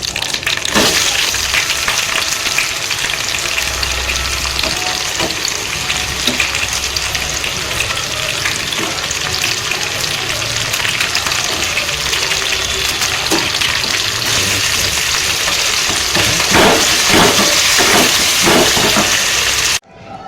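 Onions, green chilies and curry leaves sautéing in oil in a pan, giving a loud, dense, continuous sizzle with occasional stirring scrapes, close up and steady throughout.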